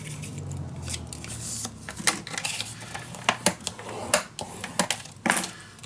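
Scissors snip through scrapbooking paper in a run of short, crisp cuts, close and fairly quiet, with light paper rustling between the snips.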